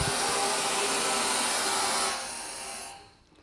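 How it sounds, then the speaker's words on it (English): A low-pressure rescue lifting airbag fills with a loud, steady rush of air that drops in level and then fades out as the inflation stops. "as we are inflating the low pressure bag, you'll see this needle"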